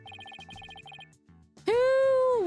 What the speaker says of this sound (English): Who was that phone call from?